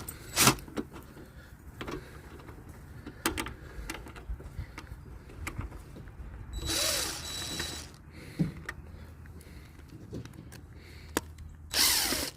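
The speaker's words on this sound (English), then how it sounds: "this time with the battery on the drill. So if I did this right, I should be able to just zip these screws out." A cordless battery drill backs screws out of wooden fire pit forms in a few short whirring bursts, with quiet handling clatter and pauses between each screw.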